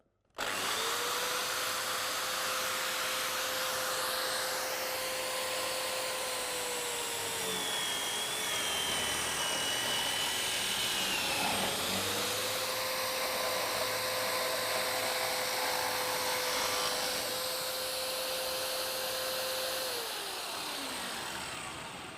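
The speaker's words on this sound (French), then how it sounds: "vous devez alors faire démarrer votre foreuse en 2 étapes" Electric drill started in two steps with its lock button, building a wooden slatted plush-toy cage; a loud, steady motor whine runs continuously, dipping once mid-run as the speed drops before spinning back up, with no talk.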